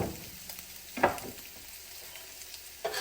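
Onions frying and caramelizing in a pan for an elk dish, a soft steady sizzle with a few brief louder stirs or clatters close by, no talking.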